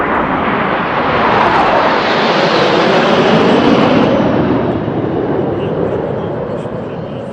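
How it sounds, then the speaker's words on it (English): A Saab Gripen fighter jet of 2 Squadron flies a low salute pass at South Africa's presidential inauguration, its loud jet roar swelling to a peak and then slowly fading as it passes overhead. "the final salute from the Gripen"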